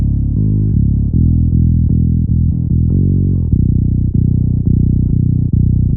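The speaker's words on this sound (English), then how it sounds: "There's the sub-lime, which is a monophonic mute type and sounds like this." Darkglass KAAMOS bass octave pedal in its sub-lime monophonic mute mode: a bass line doubled by a deep sub-octave, short punchy notes in a steady groove, loud and close, with no talking.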